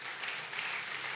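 A church congregation claps during a Filipino sermon, a brief burst of dense, even applause filling the room at moderate volume.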